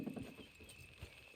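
Horse hooves clip-clop steadily at moderate distance in the Red Dead Redemption video game, with a faint steady tone and light background noise and no voices.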